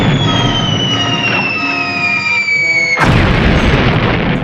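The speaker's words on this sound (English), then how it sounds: "I love the real explosions." A descending whine gives way to a sudden loud blast at about three seconds, then a rumbling explosion fills the rest, from an original Star Trek episode.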